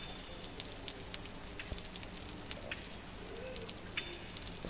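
Light rain falling steadily, a soft, even patter of drops with faint scattered ticks, fairly quiet and with no voices.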